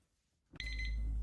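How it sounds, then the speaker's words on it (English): A kitchen oven timer goes off while snack cakes bake, a sudden steady electronic beeping tone that starts after a brief quiet moment and sounds close and clear. "so the timer's gone off for the first 20 minutes"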